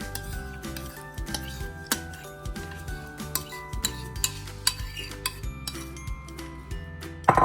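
Banana bread batter with flour and mashed banana is mixed in a bowl, giving soft, irregular clinks and scrapes of a utensil against the bowl at close range.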